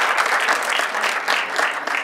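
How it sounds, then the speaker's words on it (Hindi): An audience at a press club show applauds a guest being welcomed, with continuous, lively clapping from a close crowd that holds steady throughout and has no talking over it. "भरपूर ताली हो जाए"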